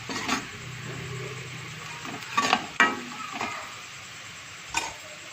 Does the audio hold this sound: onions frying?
yes